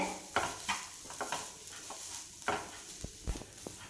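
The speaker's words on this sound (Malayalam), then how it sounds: "ഒരു 2 മിനിറ്റ് സമയം ഇങ്ങനെ ഇളക്കി കൊടുക്കാം" A spatula scrapes and taps through chicken spring roll filling in a pan, irregular stirring knocks over a faint sizzle, fairly quiet and close.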